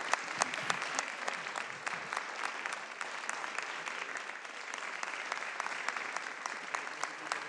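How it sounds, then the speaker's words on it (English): Sustained applause fills a legislative chamber as members clap together for community partners, a dense steady patter of many hands with no voices over it. "I would just like us to give them a round of applause"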